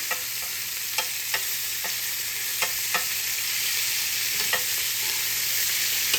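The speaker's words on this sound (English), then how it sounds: "Let's just grill off a little bit on this side." A grilled cheese sandwich, just flipped, sizzles on a grill in a steady, bright hiss. Small crackling pops come through at scattered intervals, and no one speaks.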